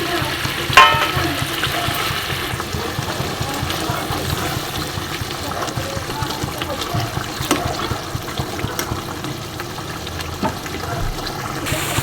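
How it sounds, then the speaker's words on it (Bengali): Fried rui fish drops into a boiling mustard curry gravy, setting off a continuous bubbling sizzle with a soft splash near the start, all heard close and steady. "দেখো এটা ফুটে গেছে ঝোলটা, এর মধ্যে ভেজে রাখা মাছগুলো দিয়ে দিচ্ছি।"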